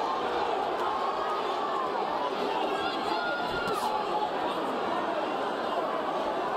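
Large boxing crowd at a Las Vegas fight between Devin Haney and Joseph Diaz Jr., a steady loud roar of chatter and cheering that fills the arena without pause.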